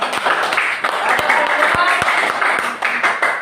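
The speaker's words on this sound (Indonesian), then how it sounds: "tepuk tangan buat semuanya" Audience applause at the close of a gathering in Indonesia, a dense patter of many hands clapping steadily and fairly close, with some individual sharp claps standing out.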